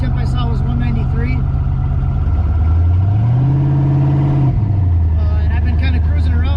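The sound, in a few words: truck driving around town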